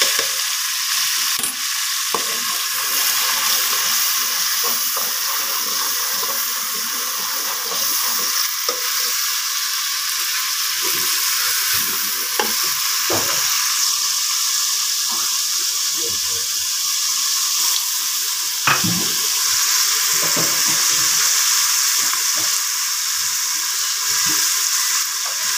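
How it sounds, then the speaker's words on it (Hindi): Chana dal sizzles in a pan with a little added water while a spoon stirs and scrapes it, a steady close frying hiss broken by repeated clicks and scrapes, with no talk. "मैंने थोड़ा सा पानी ऐड किया और मैं साथ ही इसको भून रही हूँ।"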